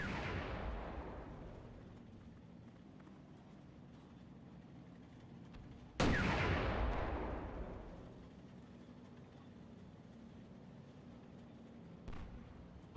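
Two heavy booming shots of WWII Online battlefield gunfire, each a loud sharp blast trailing into a long rumbling decay, one at the start and one midway, plus a fainter distant pop near the end, with no voices.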